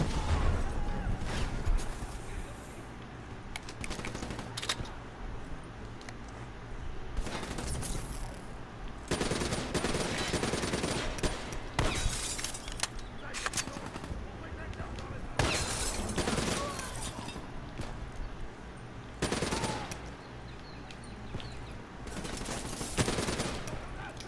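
Rapid automatic gunfire in Call of Duty Black Ops III, loud bursts and sustained volleys with scattered single shots and impacts through the whole stretch, a voice occasionally talking over the action.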